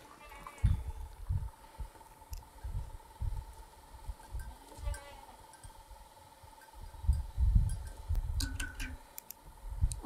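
Goats and bucks bleat on a French farm during milking, with repeated short low calls near and far over a faint steady hum and occasional clicks.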